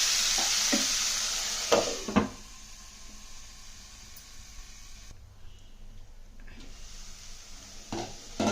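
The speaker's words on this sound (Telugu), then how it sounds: "ఇంకా ఫ్రై వేసి ఆ ఉల్లిపాయలతో పాటు టమాటాలు కూడా ఉడికేస్తాం" Chopped tomato cooking with onions in oil for a poori potato curry gives a steady close sizzle, broken by a few sharp utensil knocks and scrapes near the start and end, with a brief quieter lull midway.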